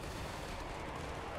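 Units firing in the strategy video game Total War Warhammer III, heard as a steady, fairly faint wash of distant, blended gunfire and cannon-like rumble with no distinct single shots.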